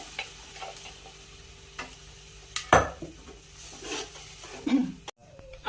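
Dal is added to a hot tempering pan with tomato for dal tadka, bringing a soft sizzle, one sharp clatter of the utensil against the pan midway and a few lighter scrapes, close by.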